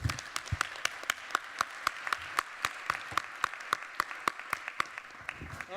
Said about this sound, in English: can we have a big hand of applause for them?